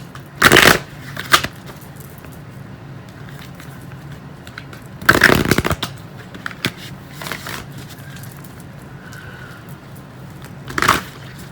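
Tarot cards are shuffled close by in three short, crisp riffling bursts separated by quiet pauses with faint handling noise.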